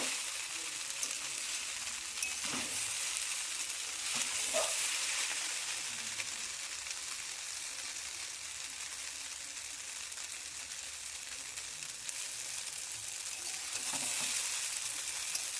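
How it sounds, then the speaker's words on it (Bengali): Pasta and egg frying together in a pan, a continuous sizzle with intermittent scraping and stirring clatters from a utensil, moderately close and steady for the full stretch. "এবার পাস্তাটা ভালো করে নেড়ে দেবো।"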